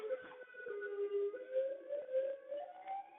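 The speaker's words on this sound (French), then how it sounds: "tu viens d'entendre que la sirène d'impact de bombes atomiques imminentes" An air raid siren warning of imminent atomic bombs in the Roblox game Murder Mystery 2 sounds continuously, its pitch slowly rising and falling in long sweeps, steady and prominent with no voices.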